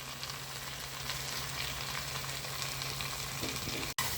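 Sliced plantain fries in hot oil after powdered asafoetida is added, giving a steady, close sizzle that continues unbroken and ends with a brief dropout.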